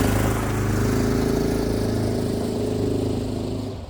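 A HISUN UTV fitted with a Predator big block engine accelerates in four-wheel drive, its steady, loud engine drone holding close and even before easing off slightly at the end.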